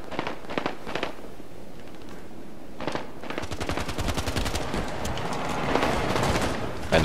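Rapid bursts of energy weapon fire from a big laser rifle in the shooter game Halo 5: Guardians, loud crackling volleys building into dense continuous fire amid battle noise, with no talk.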